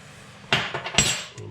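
A nut is hammered to pound out a front lower control arm part on a 2000 Mercedes E320, giving a few sharp metallic knocks in an irregular series, close and fairly loud, with no talking.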